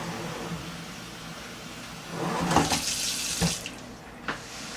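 Water runs from a tap into a sink of soapy dishwater, a steady splashing hiss that swells in the middle with a few louder splashes and sloshes.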